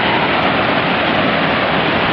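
Steady, broadband rushing roar of Laurel Fork Falls on the Foothills Trail, loud and continuous with no voices.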